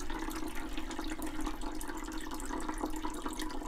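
Dirty water trickles steadily from a partly clogged pipe, a thin continuous splashing dribble with no voices.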